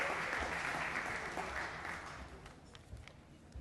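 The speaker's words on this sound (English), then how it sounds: "Let's give him a round of applause." An audience applauds at a 2024 Hall of Fame induction ceremony, a dense patter of clapping that is faint overall and gradually thins and dies away.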